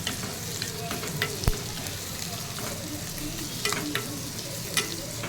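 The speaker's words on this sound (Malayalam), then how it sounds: "ചെറിയുള്ളി പച്ചമുളക് ഇഞ്ചി വെളുത്തുള്ളി കറിവേപ്പില ഇട്ട് നന്നായിട്ട് വഴറ്റിയെടുക്കാം" Shallots, green chili, ginger, garlic and curry leaves sautéing in a pan for a Kerala-style fish curry: a steady sizzle with scattered scraping stir clicks and a sharp knock, no talking.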